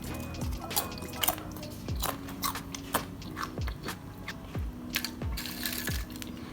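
Fried flour chips made for samosas are bitten and chewed close up, giving a series of sharp crisp crunches at a steady rhythm, loud and alone with no talk.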